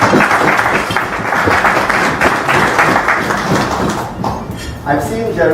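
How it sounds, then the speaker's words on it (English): A crowd at a birthday celebration in a lodge breaks into a round of applause, loud clapping with voices talking over it that thins out near the end. "Round of applause."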